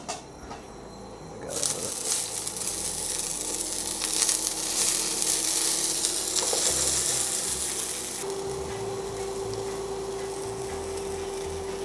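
Food sizzling in a small amount of hot oil in a pan for pub-style comfort cooking, a steady bright crackle that swells and then settles into a softer continuous fry, with a faint clink of utensils and no talk.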